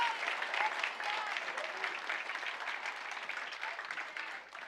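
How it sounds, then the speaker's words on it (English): An audience claps steadily in a conference hall to honour the co-hosts at a forum session in Athens, the applause dense and sustained throughout before thinning slightly at the end. "A round of applause to our co-hosts"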